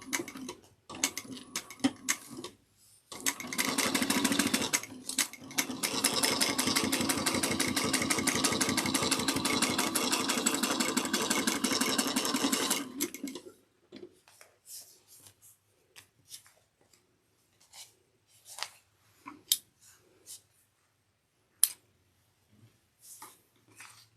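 A sewing machine top stitches a bag panel at an eighth of an inch, a rapid, steady mechanical whir lasting several seconds after brief starts, followed by quiet handling clicks and rustles.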